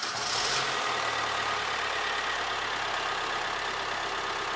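Diesel car engine with a JTD-type engine idling steadily after a fuel filter replacement, a low continuous rumble heard nearby with no speech, starting sound not clearly distinct.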